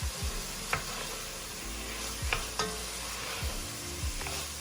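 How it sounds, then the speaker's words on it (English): Cumin, garlic powder, oregano and black pepper crackle in a hot pan for a vegetable soup with farro, a steady close sizzle broken by several soft spoon scrapes and taps as they are stirred. "We have cumin, garlic powder, oregano, a little black pepper. Give that a stir."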